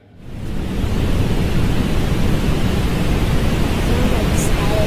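Steady, dense hiss of static from a recording of a moon's radio emissions, rising in from near silence in the first half second and then holding at an even, loud level with no breaks.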